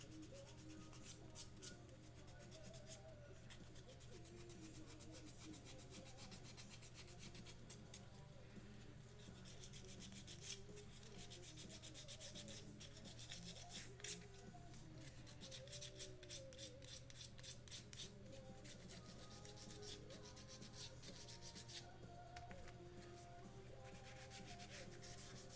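A sanding sponge rubs over a small figure sculpt in steady, close, continuous scratchy strokes, quiet and even over a faint low background hum.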